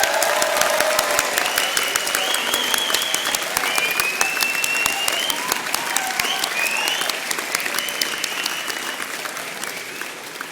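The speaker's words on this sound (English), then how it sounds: "I'm going to suggest that we have a practice round to see whether your cheering and whooping is up to form." A large graduation ceremony audience claps loudly and steadily in a practice round of applause, with scattered cheers and whoops over the dense, continuous clapping that carries on for about ten seconds before easing slightly.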